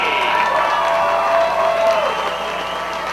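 A loud crowd at a 410 sprint car race at Fremont Speedway cheers and applauds steadily, with shouts and whoops rising over the roar before it eases slightly toward the end.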